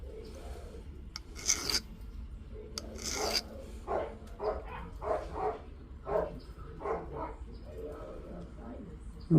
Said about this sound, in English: we're going to take our metal file and rake across the top here